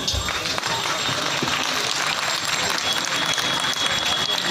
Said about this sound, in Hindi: तो विश्व की सभी महिलाओं के लिए हम सभी मिलकर तालियां बजाएंगे